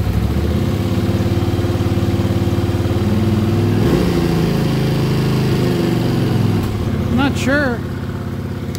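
A 1979 Honda CX500 motorcycle engine idles steadily and close by after two years unused, with a few uneven pops and a brief voice near the end.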